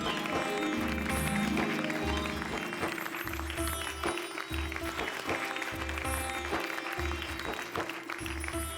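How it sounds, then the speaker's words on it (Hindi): A crowd claps steadily throughout, a sustained round of applause with a low hum of voices underneath. "क्या बात है खरे साहब, भाई ऐसी महान आत्मा के लिए एक बार जोरदार तालियां।"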